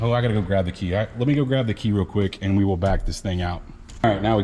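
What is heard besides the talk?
No distinct noise like a dog, phone or traffic.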